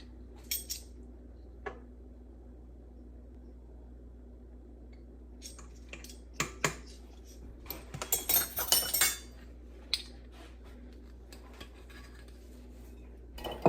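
A small cap twisted off a vanilla extract bottle while baking peppermint hot chocolate cookies, faint scattered clicks at first, then a burst of close glassy clinks and rattling handling noises near the end, no talking.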